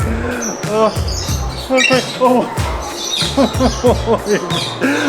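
Many birds squawk and chirp in an indoor covered bird attraction in Korea, with dense overlapping calls close by, mixed with people talking and a busy crowd hubbub.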